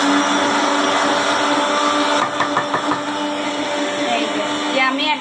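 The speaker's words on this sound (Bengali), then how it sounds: "ব্লেন্ডারের আওয়াজ হচ্ছে।" A kitchen blender runs loudly and continuously nearby, its motor whine wavering slightly as the load shifts, while chicken and potatoes are being cooked.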